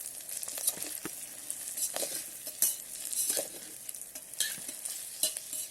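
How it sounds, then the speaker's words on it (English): Bitter gourd fry, seasoned with garam masala and red chili, is stirred as it cooks in an electric kettle. A spoon scrapes and clinks in irregular strokes over a faint, steady sizzle, with no voices. "Okay, mix this well and cook it for 1 more minute."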